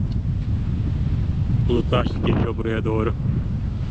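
Steady low rumbling wind from an approaching storm in the Maldives buffets the microphone throughout, with a person speaking briefly partway through.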